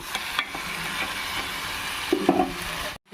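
A spoon stirring dum biryani marinade with yogurt in a bowl, giving a steady wet scraping and mixing texture with a few louder clinks near the end before it stops abruptly.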